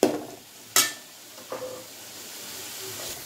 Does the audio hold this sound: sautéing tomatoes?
yes